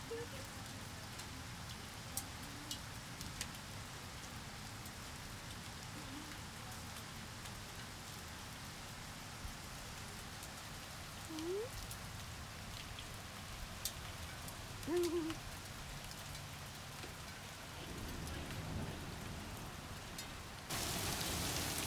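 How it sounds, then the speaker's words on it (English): Heavy rain falls just after a spell of hail, giving a soft, continuous outdoor hiss that stays fairly faint and even throughout, with a few brief chirps and noises on top. "it's raining like bloody cats and dogs again"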